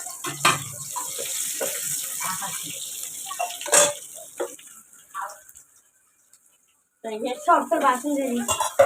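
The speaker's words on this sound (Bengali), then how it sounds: "চা খাইয়েছি তাই বাসন ধুয়ে যাচ্ছে" Clattering dishes and running water with scrapes and clinks, close by, as tea dishes are washed, then a brief silence before more rinsing and clanking.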